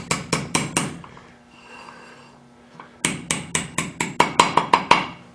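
A hammer taps a steel drill-rod pin into a hole in metal in quick repeated strikes, a run of four, a pause with a faint hum, then a longer series of ringing blows.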